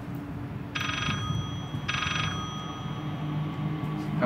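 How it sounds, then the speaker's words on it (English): A ghostly phone rings twice in the horror game Layers of Fear, two short electronic trills about a second apart over a low ambient hum. "There's no phone. It's a ghost phone."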